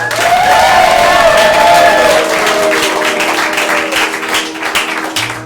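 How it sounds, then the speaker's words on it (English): Loud crowd applause and cheering with whoops rises together, while a held musical tone fades beneath it; clapping thins slightly toward the end. "Give them a round of applause."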